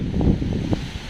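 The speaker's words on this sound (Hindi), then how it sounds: "कितनी तेज हवा चल रही है।" A brief, loud rush of wind during rain in Uttarakhand buffets the microphone with low rumbling gusts.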